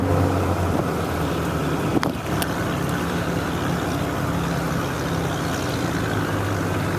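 A 1957 23-foot Lyman runabout motorboat running steadily on the water during a sea trial, its engine a continuous drone mixed with wind buffeting the microphone, with one brief sharper knock partway through.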